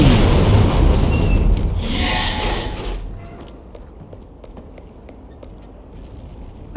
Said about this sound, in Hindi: और उड़ा देते हैं इस हेलीकॉप्टर को।